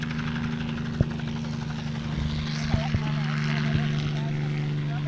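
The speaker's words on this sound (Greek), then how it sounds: "τοποθετήθηκαν τα 3 ελικόπτερα που θα χρησιμοποιηθούν" A helicopter flies low over the area during aerial spraying against mosquitoes, its rotor and engine a steady, close, loud drone with a few sharp knocks, continuing throughout.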